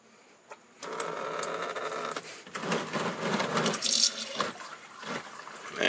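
Engine oil gushes out of an opened drain valve on a 6.7 Cummins diesel truck in a steady, splashy pour that starts abruptly and runs on as a continuous liquid rush.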